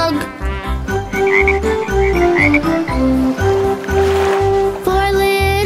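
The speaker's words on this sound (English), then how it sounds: "little speckled frogs sat on a speckled log, eating some most delicious bugs." Green speckled frog croaks repeat in a rhythmic pattern inside a bouncy children's counting song, mixed with steady music and sung tones throughout.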